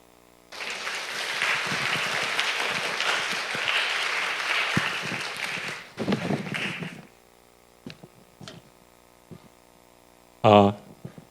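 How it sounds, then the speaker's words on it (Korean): Loud, steady applause from a church congregation during a Sunday evening service reporting on children's summer events, lasting about six seconds before breaking off into rustling, a few isolated knocks, and a brief burst of noise at the end. "나오실 때 아주 큰 박수 부탁드리도록 하겠습니다."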